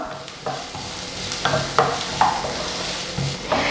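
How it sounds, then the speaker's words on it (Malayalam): Sliced onions sauté in hot oil in a pan for paneer butter masala, a continuous sizzle broken by repeated sharp stirring scrapes and clacks of a spatula. "ഇനി നമുക്ക് ഇതിനകത്തോട്ട് സവോള ചേർത്ത് കൊടുക്കാം. എന്നിട്ട് ഇതൊന്ന് വഴറ്റി കൊടുക്കുക."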